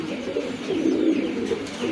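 Large pigeons coo continuously nearby, a dense, low, throaty burble of several overlapping birds with no voices over it.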